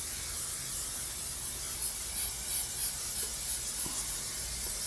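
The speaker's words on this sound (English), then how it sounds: "That's the nice thing about using this can oil, spray oil, whatever you want to call it." Continuous hissing spray from a can of cooking oil coating the inside surfaces of a Yoder Frontiersman offset smoker, with short bursts pulsing through the steady spray. It is close and fairly quiet.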